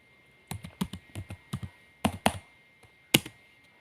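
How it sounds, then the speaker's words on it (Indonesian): Typing on a computer keyboard to enter a network ping command: a string of about a dozen crisp, close key taps in uneven bursts, with short pauses between groups. "kita ketikkan ping terlebih dahulu"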